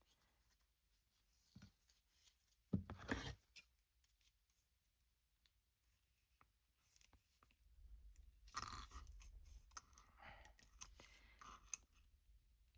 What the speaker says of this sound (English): We're going to cut those off, throw these away.